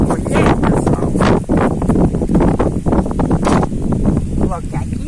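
Wind gusts across an outdoor vegetable garden on a small farm, buffeting the microphone in loud, rough rumbles throughout while someone talks.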